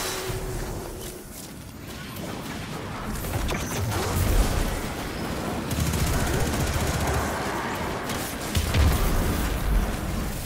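Void grenades detonate in the Destiny 2 video game amid a dense stream of gunfire, with repeated heavy blasts and rumbling impacts layered over continuous shooting, loud and close throughout.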